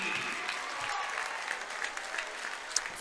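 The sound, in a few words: basketball crowd applauding a senior player checking out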